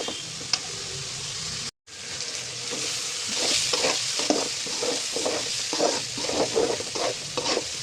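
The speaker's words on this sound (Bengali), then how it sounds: "এখন এই আলু আর সিমও ভালো করে কষাবো, যাতে মরিচ হলুদের গন্ধটা না থাকে।" Potatoes and flat beans sauté in a pan with chili and turmeric: a steady, close frying sizzle with repeated scraping stirs throughout, broken by one brief silent gap near the start.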